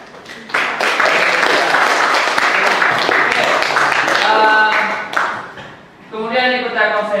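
A class of students claps together in a room, a dense patter of hands lasting several seconds before a voice speaks briefly, then more clapping and voices at the end.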